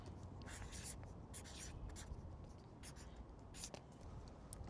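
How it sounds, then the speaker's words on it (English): A temperature reading written down by hand, continuous scratchy pen strokes on paper close up over a steady hiss, with faint speech underneath. "Now I should write it."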